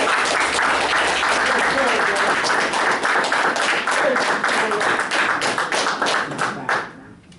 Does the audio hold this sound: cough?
no